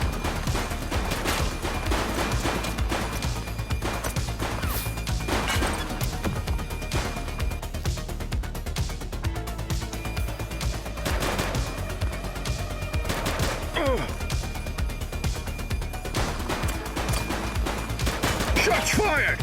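Dense gunfire in a video game police shootout in The Precinct, with sustained volleys and rapid automatic bursts that are loud and continuous throughout, mixed with crashes and faint shouted voices.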